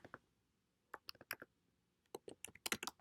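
Typing on a computer keyboard, close and quiet: short clusters of crisp key clicks separated by pauses, with no talking.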